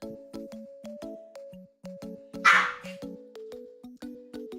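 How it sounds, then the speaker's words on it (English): Pet dog named Coffee barking indoors in a run of short, close yips and barks, one louder burst midway, with no talking over it. "Why are you still barking? I gave you a treat."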